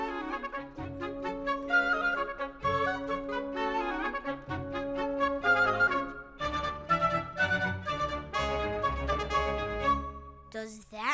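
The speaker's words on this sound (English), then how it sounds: "Let's listen to the buoys in the Indian Ocean." Cartoon buoy sounds from the Indian Ocean rendered as a bright, busy orchestral melody with steady rhythm and rising, falling phrases, loud and continuous throughout, ending in a brief flourish.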